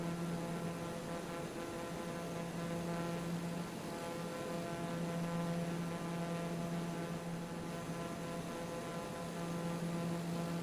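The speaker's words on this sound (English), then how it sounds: "It's just a nice plane. TBM 930." A TBM 930 turboprop airplane cruises in flight in a flight simulator game, its engine a steady, continuous drone with a strong low hum that stays level throughout.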